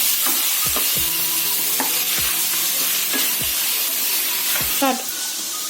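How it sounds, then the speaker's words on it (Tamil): Vegetables with salt sauté in a pan for paneer fried rice, giving a steady, close sizzle throughout with periodic scraping stirs of a spoon and a faint voice in the background. "உப்பு சேர்த்து இது ஒரு 2 நிமிஷம் வதங்கட்டும்."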